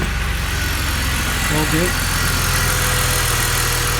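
A BMW E46 330Ci Clubsport engine idles steadily with a low, even rumble, settling down, while someone speaks briefly over it partway through.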